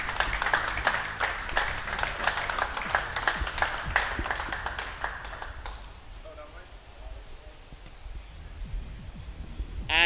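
A crowd at a motor racing prize-giving at Thruxton claps steadily for several seconds, then the applause fades out, leaving quiet room noise and a few faint sounds.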